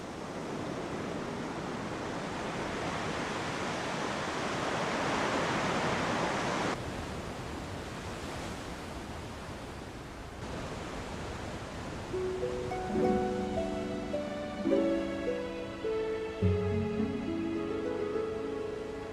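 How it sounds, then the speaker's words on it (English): Rough Indian Ocean surf crashes against the Zuiddorp Cliffs on Australia's western coast, a broad roaring wash that swells and recedes, with musical tones rising over it in the latter half. "Rough waves of the Indian Ocean pound against the cliff, sending up white water into the air."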